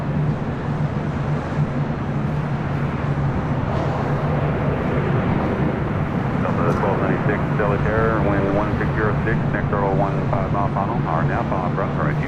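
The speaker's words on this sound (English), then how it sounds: "We got a Delta 767 rolling down 25 right." A Delta Boeing 767-300ER rolls down runway 25 right at LAX, a steady rumbling engine roar with a low tonal hum, under radio voices and chatter in the second half.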